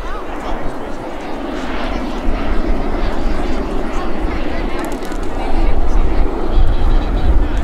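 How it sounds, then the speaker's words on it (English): An L-39 Albatross jet flying at the Jones Beach airshow, a loud continuous engine roar that swells toward the end, heard along with a voice talking. "And the L-39 Albatross."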